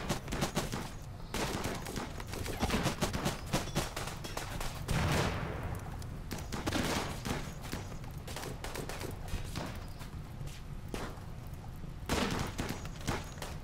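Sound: gunfire in a crowd of raiders in the video game RimWorld

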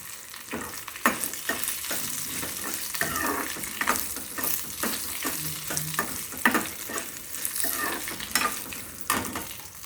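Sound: dried red chillies frying in oil

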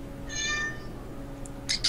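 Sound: cat meowing

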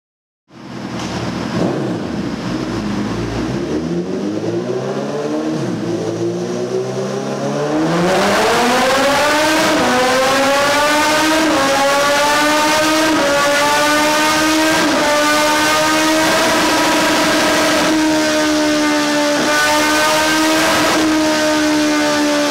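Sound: Suzuki Bandit 1250 motorcycle with full Jeskap exhaust revving

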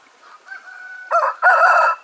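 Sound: rooster clucking and crowing

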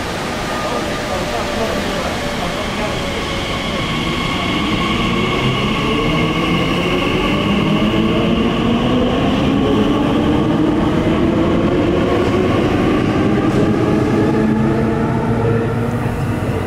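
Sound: Class 345 Purple Line train approaching platform at Custom House

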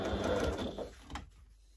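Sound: sewing machine stitching bias binding on slipper

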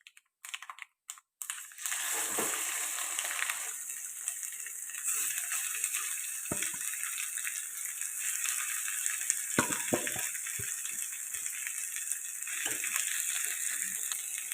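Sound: gongura chutney being stirred and fried in tempering

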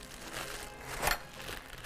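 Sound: plastic freezer bag crinkling

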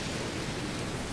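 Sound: rain in Ninja Gaiden 2 Sigma video game

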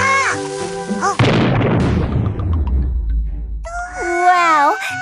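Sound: cartoon cannon firing

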